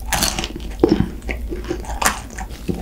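Crispy Chicago pizza crust is bitten and chewed up close, with sharp crunches and softer mastication sounds spaced irregularly amid faint mouth noises.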